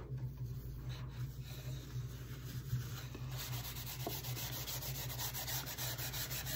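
Continuous sanding of a thrifted wooden Christmas sign, a steady close rasping rub with a low machine hum underneath, growing brighter and denser partway through, with no voices.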